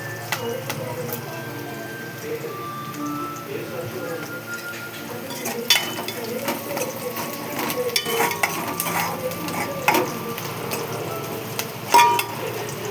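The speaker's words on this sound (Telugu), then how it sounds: "ఇది కొంచెం గోల్డ్ కలర్ వచ్చేదాకా వేయించుకోవాలి" Food fries in a pan until golden while a spoon stirs and scrapes against the metal. A soft sizzle runs underneath, the scraping clinks come in occasional bursts, and someone talks over the cooking.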